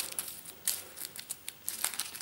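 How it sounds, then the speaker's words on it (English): Cards from a Pathfinder: Rise of the Runelords card game being shuffled, a discard pile riffled and slid together in a few quick, soft papery bursts up close, with no talking. "let's shuffle it a bit"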